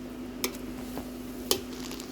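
Bean vermicelli noodles being stirred in a pan, soft sizzling beneath a steady hum, with two sharp utensil taps against the pan, close up.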